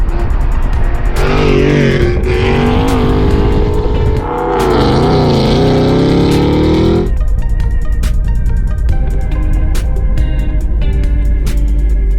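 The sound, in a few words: car engine revving going by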